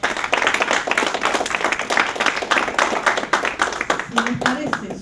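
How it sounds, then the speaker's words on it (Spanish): Close, vigorous applause at an environmental education panel for four speakers, dense rapid clapping sustained evenly throughout with a faint voice near the end. "Así que un gran aplauso para los cuatro."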